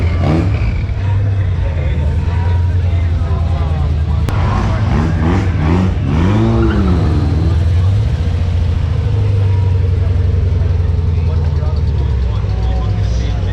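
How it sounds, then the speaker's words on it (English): Modified cars pull away from a cars-and-coffee car meet, engines rumbling loud and close with rising and falling revs as they pass, over constant wind and crowd noise, with voices talking throughout. "Guys are leaving now. You get to hear the cars."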